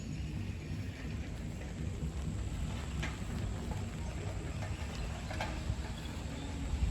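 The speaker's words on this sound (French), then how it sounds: "Il pleut" Steady rain falls outdoors at a festival campsite, a continuous broadband hiss with faint low rumble beneath, no voices over the constant wash.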